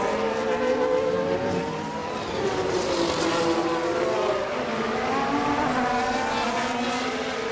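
Formula 1 race cars drag-race side by side on the Baku street circuit in F1 Manager 24, with engines screaming steadily and loudly under shifting revs for the whole stretch.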